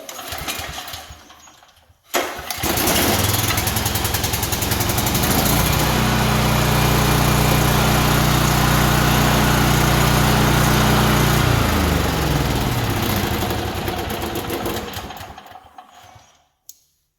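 A small engine on a farm machine with a newly replaced pull-starter rope fires up after a short pull, then runs loud and steady for several seconds before cutting off, with no talking.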